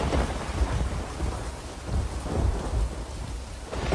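Heavy rain pours down steadily while deep thunder rumbles roll through, loud and close, with swells of the storm rising and falling over four seconds and no voices.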